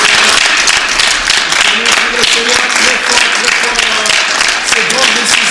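A church congregation claps and cheers in praise of the Lord, a dense, loud, sustained wave of applause with voices mixed in throughout.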